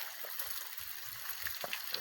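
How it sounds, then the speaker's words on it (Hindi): Water runs from a fountain at a crowded fair, a steady trickling splash close by with soft irregular spatters over a constant hiss. "ये फुवारा चल रही"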